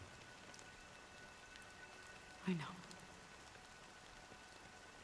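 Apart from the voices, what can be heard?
rain falling in the video game Honkai: Star Rail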